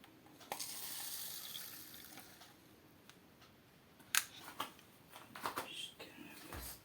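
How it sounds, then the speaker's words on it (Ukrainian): Hot water pours steadily for a few seconds over yarn dye powder and salt, then gives way to a few clicks and light clatters close by. "тепер будемо заливати гарячою водою."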